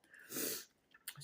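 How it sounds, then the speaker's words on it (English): A single short, breathy sneeze burst close by, followed by a brief sniff or breath, fairly quiet overall. "sorry, I feel like I'm gonna sneeze."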